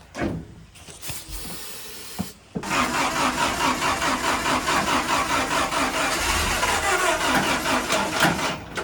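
A 1953 Willys CJ3b Jeep with a rebuilt engine cranks briefly, then catches and settles into a steady, loud, even running rumble that continues without talk.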